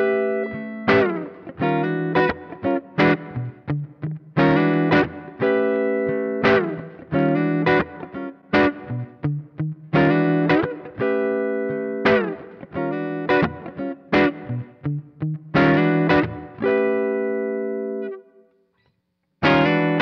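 A 2019 Gibson Les Paul Special TV electric guitar plays a run of rhythmic strummed chords and picked notes through effects with distortion, loud and close, with a brief silence near the end before one last chord.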